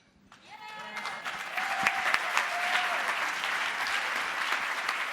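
An audience at a youth gala in Boston breaks into applause that swells within the first second and holds steady. Faint voices and a brief whistle-like tone sit underneath the clapping.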